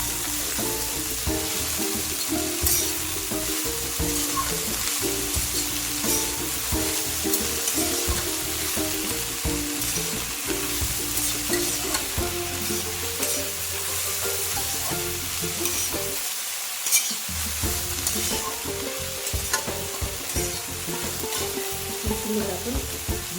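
Fenugreek leaves (methi) are sautéed in a hot pan, with a continuous crackling sizzle and repeated stirring strokes throughout, over steady background music.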